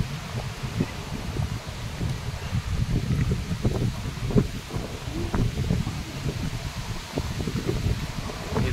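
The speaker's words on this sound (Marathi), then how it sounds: "वारा खूपच आहे." Strong wind gusting outdoors on a walk through town, a continuous rough buffeting roar with irregular low thumps and swells, close to the microphone, with no voices heard.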